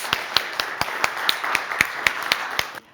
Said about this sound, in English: let's thank the entire panel, all of our 4 speakers, with a good hand of applause